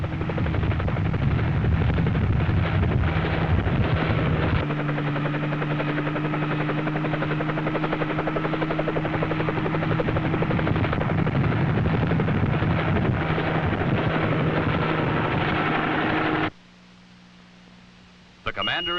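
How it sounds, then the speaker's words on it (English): Helicopter in 1963 archival footage near space launch areas, a steady droning rotor and engine with a constant low hum, cut short by a brief quieter break and narration-style voice. "The president then boarded a nearby helicopter for an aerial tour of the space launch areas"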